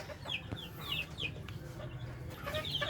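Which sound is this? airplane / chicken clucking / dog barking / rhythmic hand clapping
chicken clucking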